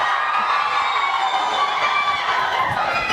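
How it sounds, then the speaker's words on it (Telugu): An audience at a Telugu film press meet roars in a dense, sustained wash of cheering and shouting, loud and continuous throughout the short burst. "గట్టిగా క్లాప్స్ కొట్టాలి అందరూ."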